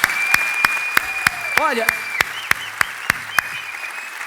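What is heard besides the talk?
audience applause for church volunteers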